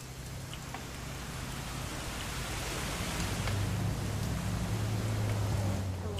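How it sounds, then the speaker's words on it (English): Rain falling in the video game What Remains of Edith Finch, a steady, dense hiss of drops that grows slightly louder over a low background hum. "It's gonna rain the whole weekend"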